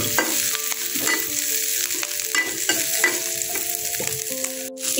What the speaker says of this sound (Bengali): কাঁচামরিচ ভাজা হচ্ছে